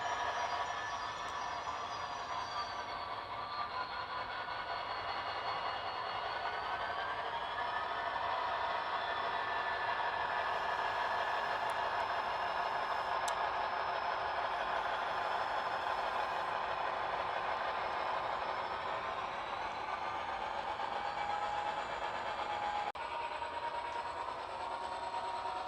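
An HO scale Bowser BC Rail SD40-2 model locomotive runs forwards on its layout, giving a steady, continuous motor whine and rolling hum that stays fairly loud and even throughout, with no talking.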